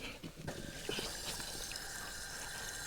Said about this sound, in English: let's fill up the tank